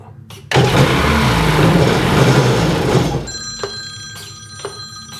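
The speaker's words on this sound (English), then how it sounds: "And the phone's ringing." A telephone rings in a workshop during repairs on a 2002 Sea-Doo GTX, a few bright, repeated electronic bursts after a loud engine-like roar stops abruptly.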